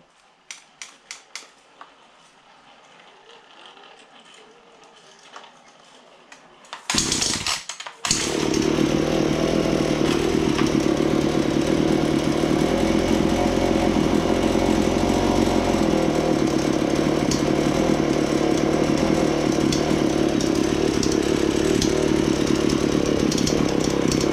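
A chainsaw being diagnosed for a fault runs at idle: soft rhythmic putter with a few sharp pops, then after a brief gap it roars loudly and steadily, close and continuous to the end.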